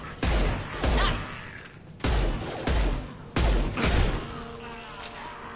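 Heavy hand cannon pistol shots in Mass Effect 2 fire in a rapid series of booming blasts, several spaced reports with thuds and whooshes of combat trailing between them.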